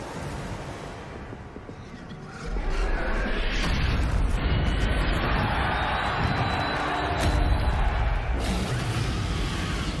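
Incendio fire spell cast in the Hogwarts Legacy video game: a loud, rushing burst of flame swells in at once and roars steadily for several seconds before easing slightly, with no talking over it.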